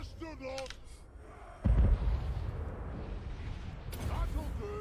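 Rank 9 cannons fire in a Warhammer video game barrage, with one heavy booming blast near the middle amid a low rumbling battle bed, and a voice speaking early on.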